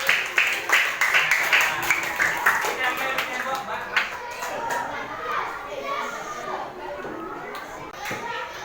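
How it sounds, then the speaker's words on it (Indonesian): Schoolchildren in a classroom give group 2 a round of rhythmic clapping, with sharp claps that fade into children's chatter and a lively classroom buzz. "Tepuk tangan untuk kelompok 2"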